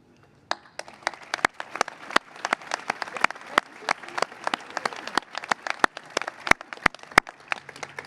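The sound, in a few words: audience applauding at a Memorial Day ceremony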